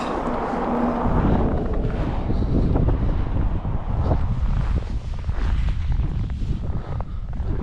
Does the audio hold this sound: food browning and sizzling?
no